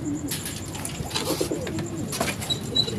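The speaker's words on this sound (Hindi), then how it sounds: "ये है कबूतर" A pigeon taken down from a tower coos softly at close range in low, rolling murmurs, with faint background noise and no speech.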